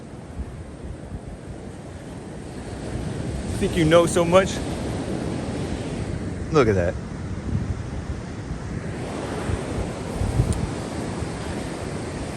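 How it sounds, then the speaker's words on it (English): Ocean waves wash continuously onto a beach, a steady broadband roar that fills the whole clip while a person talks over it in a couple of short bursts. "the waves won't shut up"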